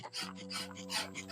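Steady rhythmic rasping as sandpaper is rubbed back and forth over a lubricated car headlight during wet sanding. The strokes are close and even, about four or five in quick succession.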